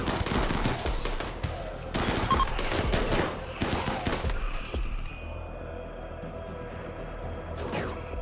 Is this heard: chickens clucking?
no